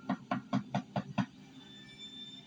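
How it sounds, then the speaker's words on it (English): Six evenly spaced, fairly quiet knocks on a door come in a quick steady rhythm, followed by near silence. "there was a knock at the door"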